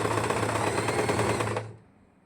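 A sewing machine stitches the side seam of a pleated frock in a fast, steady run of needle strokes, close and loud, then stops abruptly into quiet.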